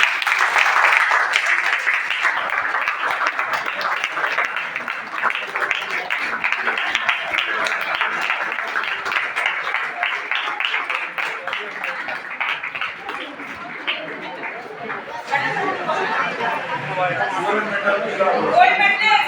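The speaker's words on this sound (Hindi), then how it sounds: "ताली से इसका स्वागत" Audience applause at a college NSS programme welcoming a karate gold medalist from a national competition, steady sustained clapping for the whole stretch with light crowd chatter mixed in.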